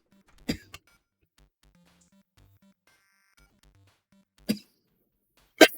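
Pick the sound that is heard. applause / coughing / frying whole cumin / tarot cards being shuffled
coughing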